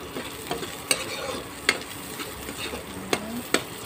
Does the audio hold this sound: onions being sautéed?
yes